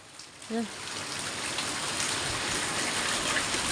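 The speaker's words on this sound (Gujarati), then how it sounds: "હવે વરસાદ પાછો ચાલુ થઈ ગયા" Rain falls with light wind in a village setting, a dense steady patter at close range that swells slightly and holds constant, with a brief voice near the start.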